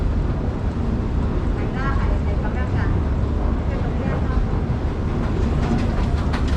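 LRT train rumbling at Pasar Seni station in Kuala Lumpur, a continuous heavy low roar with faint rail squeals, steady and close throughout.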